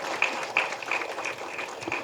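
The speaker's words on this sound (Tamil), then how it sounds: "ப்ளீஸ் ஒரு கைத்தட்டலுக்கு விடுங்களேன்." An audience applauding at a film audio launch: a dense crowd clapping continuously, with a few sharp whistles rising above it.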